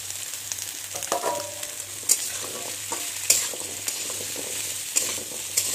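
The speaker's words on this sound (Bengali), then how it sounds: "এখন এটাতে আমি কাঁঠালের বিচিগুলো দিয়ে দিচ্ছি।" Boiled, peeled jackfruit seeds fry in a pan with fried onion, garlic and spices for a dal, giving a steady close sizzle broken by sharp spoon scrapes and clinks at irregular intervals.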